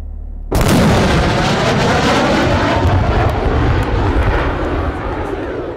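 A jet breaking the sound barrier roars in abruptly with a loud sonic boom, and the thunderous engine noise continues as a dense, sustained roar.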